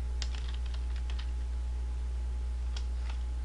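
Typing on a computer keyboard, a few scattered light key clicks in short clusters over a constant low electrical hum.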